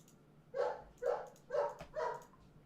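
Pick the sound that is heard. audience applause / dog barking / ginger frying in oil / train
dog barking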